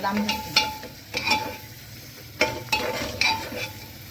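Garlic, tomato and coriander frying in oil with a soft sizzle, punctuated by irregular bursts of spoon scraping and clinking against the pan, heard close with no speech.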